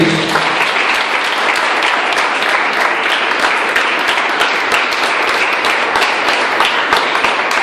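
A church congregation at an apostolic youth service claps loudly and continuously, a thick, close, unbroken roar of hands that stays level from start to finish without any speech over it.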